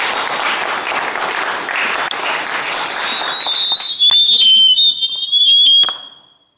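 A church congregation at a pastor's wedding bursting into loud sustained applause and cheering, joined by shrill high-pitched ululation and whistles, then cutting off abruptly.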